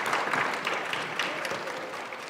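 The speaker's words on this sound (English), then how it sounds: "give her a big round of applause" Steady applause from an audience at a high school junior class academic awards ceremony, a moderate wash of clapping holding fairly even over a couple of seconds.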